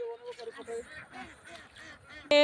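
A flock of ducks in a muddy village field, several quacks and honking calls in close succession with a person talking over them and a loud, sharp call at the end.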